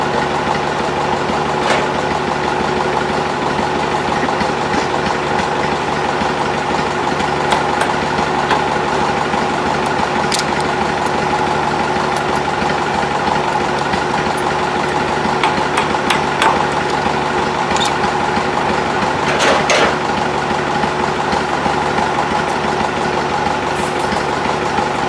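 A tractor engine idles steadily throughout, a continuous close mechanical hum with a few faint clanks of work happening nearby and no talking.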